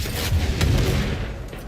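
A grenade blast and gunfire in a video game: a loud, dense, booming burst with rumbling low end and crackling shots, sustained and close for under two seconds.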